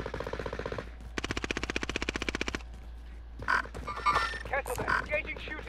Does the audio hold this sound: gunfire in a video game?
yes